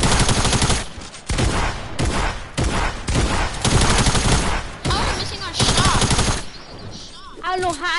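Rapid bursts of video game gunfire, loud automatic volleys in several separate strings with brief gaps, then fading as voices chatter near the end.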